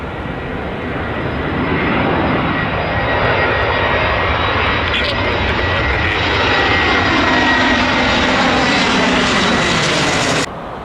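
Aircraft engines roar loud and steady at Tampa airport, a continuous close drone holding for about ten seconds before cutting off sharply near the end.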